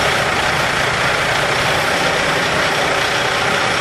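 A truck engine in first gear strains against a coupled trailer during a coupling tug test, a loud, dense, unbroken diesel roar that holds steady without pause.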